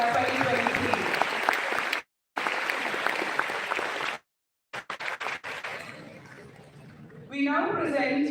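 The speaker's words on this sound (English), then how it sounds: "Let us give a huge round of applause for Investisiya 2023." Audience applause at the Investisiya 2023 investor awareness event, a dense steady clatter of many hands that cuts out twice, then fades with a voice speaking over the tail.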